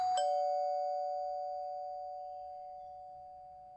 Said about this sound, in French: c'est à cet instant précis que la sonnette retentit